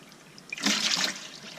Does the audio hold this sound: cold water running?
yes